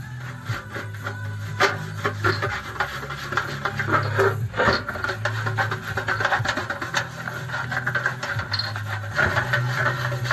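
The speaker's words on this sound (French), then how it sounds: "On va frotter ça avec une brosse." An old recovered outdoor lantern being scrubbed with an old toothbrush, giving a steady, close bristly rubbing and rasping that runs continuously with small irregular strokes, with a low background hum underneath and no talking.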